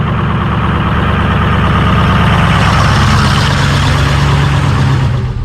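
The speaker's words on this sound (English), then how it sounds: "I'm gonna drive around to the back of our property where I've got some trees to take care of" A farm vehicle's engine runs steadily and close while driving around to the back of a rural property, a continuous low rumble with no talking.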